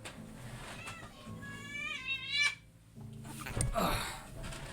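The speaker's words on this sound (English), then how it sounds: "my cat is meowing" A house cat meows several times in rising, wavering, drawn-out calls, close and fairly clear over a low background hum.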